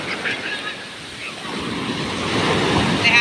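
Ocean waves wash onto a beach at Dingalan, Aurora, a steady loud rushing surf that builds toward the end, with wind buffeting the microphone and faint voices.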